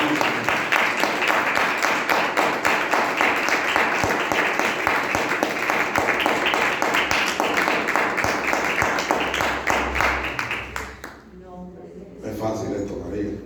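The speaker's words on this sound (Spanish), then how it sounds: "Den un aplauso a Dios, iglesia." A church congregation applauds steadily and loudly for about eleven seconds, with voices mixed into the dense clapping, before it fades into quieter talk and music.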